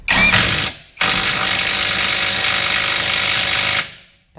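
An impact or ratchet tool tightens a bolt on the lower control arm of a 2015 Chevrolet Aveo 1.6 16v, two loud close bursts of rapid mechanical hammering, a short one and then a long steady run of about three seconds.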